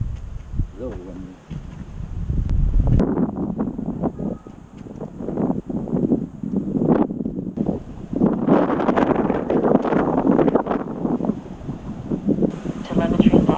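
Strong, gusty wind buffets the microphone outdoors during a small FPV drone's first flight, a continuous loud rumble and roar that fills the whole clip, with a voice speaking under it.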